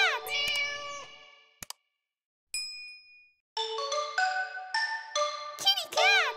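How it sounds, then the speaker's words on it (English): An animated cat meows in high, bright, repeated cries, with a brief ding-like chime and a short silence between bursts of cartoonish meowing. "Kitty cat!"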